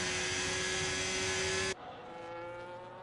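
F1 race car engines in an F1 racing video game on the Spain circuit, a loud high-pitched whine from a car passing close that drops suddenly into a lower, quieter engine drone.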